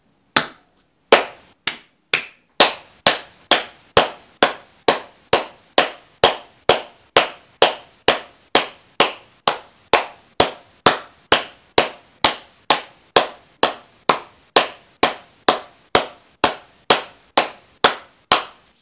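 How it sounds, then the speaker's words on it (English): A single person claps their hands about thirty times in a steady, even rhythm during a palm-and-foot circulation exercise, each sharp clap close, loud and alone, after a few irregular starting claps. "we're just going to clap 30 times"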